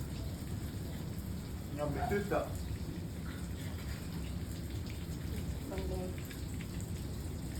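Mackerel (bangude) frying in a pan, a steady crackling sizzle like rain throughout, with people talking over it at moments.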